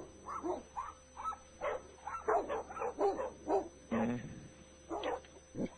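Several dogs bark over a phone line, a string of repeated muffled barks and yips with uneven rhythm, thin and slightly distant.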